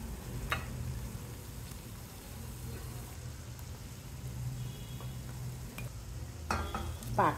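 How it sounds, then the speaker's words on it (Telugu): Kova gulab jamun balls fry slowly in oil on a low simmer, giving a steady soft sizzle with faint stirring and occasional clicks of a spoon against the pan. "నిదానంగా వేగుతుంది ఇలా వేగుతున్నప్పుడే ఒక్కొక్కటి తీయండి"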